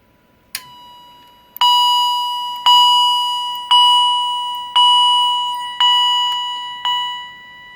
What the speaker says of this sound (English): you're gonna hear that quiet ding before it goes to loud dinging